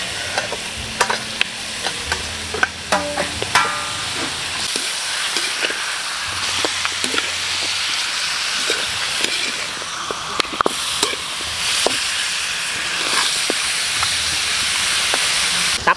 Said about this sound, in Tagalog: Tapos natin gisa ng ating buto-buto.